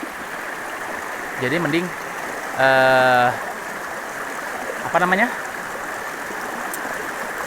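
A mountain stream on Mount Salak, along the trek to the Kawah Ratu crater, rushes with a steady, close wash of water throughout, while someone talks briefly over it.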